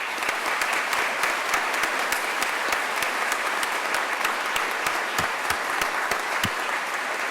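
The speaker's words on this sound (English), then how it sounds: "I would like the students to join me in a round of applause for the family members who have supported you" A graduation audience at the Naval Postgraduate School claps steadily for the students' family members, dense sustained applause filling the hall with no talk over it.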